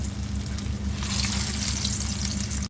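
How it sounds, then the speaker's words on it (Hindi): Mutton resha kebabs fry in hot oil with a loud, close, continuous sizzle and crackle that holds steady throughout and cuts off sharply at the end. "जितना इसमें आएगा उतना कबाब हम इसमें फ्राई कर लेते हैं"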